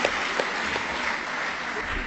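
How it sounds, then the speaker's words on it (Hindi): Steady applause from an audience greeting a poet at a literary gathering, an even, continuous patter of many hands throughout the short stretch. "जोरदार तालियों से स्वागत करिए"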